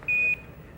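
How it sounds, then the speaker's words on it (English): The Apollo lunar module 1202 program alarm sounds as a single short electronic beep, a clear steady tone lasting about a quarter second over faint background hiss. "the 1202 program alarm"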